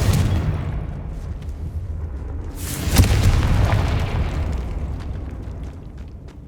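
Confringo explosion spell cast in the video game Hogwarts Legacy, a single deep booming blast with a rumbling tail that slowly fades, alone without voices.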